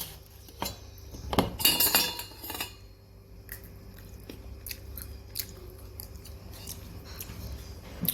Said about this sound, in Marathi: आता आपण गप्पा मारत मारत कैरी बारीक करूया कैरीचे तुकडे करूया